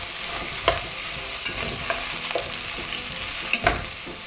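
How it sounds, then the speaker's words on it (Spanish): Onions sauté and sizzle in a frying pan with carrots and garlic, a steady close hiss with a few sharp stirring knocks throughout; no talking. "Lo vamos a dejar aquí 2 minutitos más, sofriendo la cebolla."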